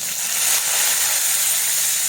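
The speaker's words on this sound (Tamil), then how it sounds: "இஞ்சி பூண்டு பேஸ்ட் வந்து நல்லா பச்சை வாசனை போகிற அளவுக்கு நல்லா வந்து வணக்கிக்கோங்க." Ginger garlic paste sautés in hot oil with mustard seeds, cumin, curry leaves and chillies for egg kuruma, giving a close, even, bright sizzling hiss with no voices.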